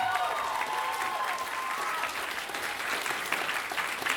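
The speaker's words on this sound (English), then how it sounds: "let's give another huge round of applause for Cairo." An audience at a live stage show at a convention claps enthusiastically, a dense, continuous wash of many hands at fairly close range, holding steady for several seconds without a break.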